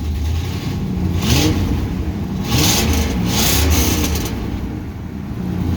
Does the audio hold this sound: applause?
no